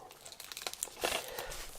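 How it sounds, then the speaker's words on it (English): Plastic bin bag wrapping on a delivered parcel crinkled and rustled by hand, close and fairly quiet, with a louder crunching burst partway through and no talking. "I think they've wrapped it in a bin bag"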